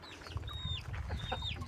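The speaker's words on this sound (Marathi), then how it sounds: "8 कोंबड्या ज्या आहेत त्या आपल्या अंड्यावर बसलेल्या आहेत." Hens and roosters clucking on a poultry farm where brooding hens sit on eggs; repeated close clucks and calls over a steady low farmyard rumble, with no talking.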